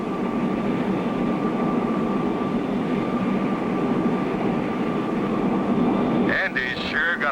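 An airplane drones steadily in flight, a constant broadband engine roar with a sustained tone, close and loud, before a voice briefly cuts in near the end.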